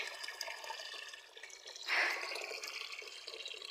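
Water runs from a tied pipe in a quiet, faint, continuous trickle, with a brief louder gush of splashing partway through.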